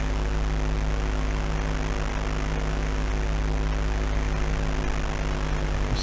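An aircraft engine hums in Flight Simulator II on the Atari ST while the plane climbs over Oakland, a steady droning tone without pause throughout.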